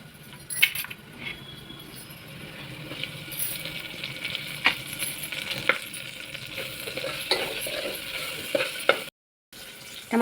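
Ginger garlic paste and onions frying in a pan for egg biryani, a steady sizzle with scraping stir strokes and a few sharp metallic clinks, with a brief silent gap near the end.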